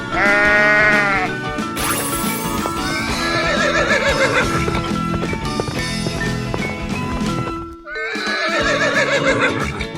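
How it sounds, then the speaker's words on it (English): A horse neighs in a 3D animal video game, giving a shrill, quivering whinny at the start and another near the end, with hoof clip-clops and bleat-like calls over loud looping game music. "horse"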